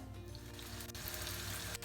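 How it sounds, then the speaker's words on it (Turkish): Cut potatoes sizzling as they fry in a shallow layer of oil for a large iftar meal, a steady close crackle and hiss running without pause and no one speaking. "kızartmaya başlayacağım"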